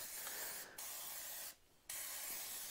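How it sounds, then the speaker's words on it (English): Fluid Film rust protectant is sprayed inside the frame rails of a Dodge W200 truck under restoration, in close aerosol hissing bursts broken by two brief pauses. "I want to put a little fluid film inside the frame rails"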